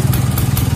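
A repaired Vespa PX scooter engine idles steadily, a loud low chugging putter with a regular pulsing rhythm throughout the short stretch.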